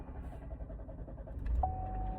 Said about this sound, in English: Can you turn your car on to keep warm?